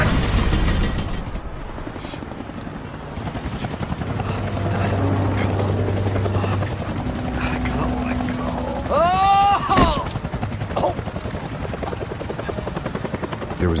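A helicopter in the Max Payne 3 video game thrums loudly and steadily under urgent shouted voices, with a brief whooshing sweep partway through.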